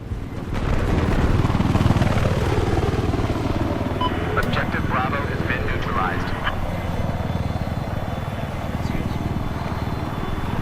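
A helicopter in the video game Battlefield 4 rumbles loudly and steadily, its rotor and engine drone sweeping up and down in pitch as it passes, with scattered game effects over the top.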